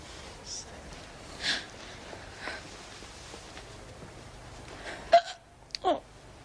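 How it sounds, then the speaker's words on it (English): A person hiccups in a quiet room, a few short, abrupt catches spaced irregularly, with a couple of sharper ones near the end, close and fairly soft, with no talking. "Now I've got the hiccups."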